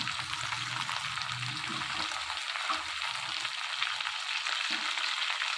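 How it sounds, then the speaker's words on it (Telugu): Coriander leaves fry in a pan with curry leaves for tomato coriander chutney, producing a continuous soft sizzle with low stirring scrapes underneath. "ఇలా కొత్తిమీర అంతా వేసుకుని కూసేపు కొత్తిమీర కూడా ఫ్రై చేసుకోవాలి"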